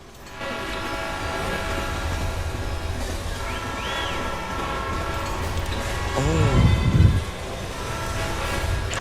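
A video game train rumbles through a tunnel at night, its clattering roar building steadily. Horn-like tones rise as it peaks close by, then it settles back into a continuous rumble.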